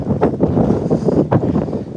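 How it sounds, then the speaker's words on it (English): Steady wind buffets the microphone on an open cruise ship deck aboard P&O Britannia, a loud continuous roar with gusty surges and no talking. "it's very windy this morning."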